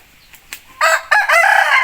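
Two faint taps, then a rooster crows loudly and nearby in two bursts, with clucking hens around it.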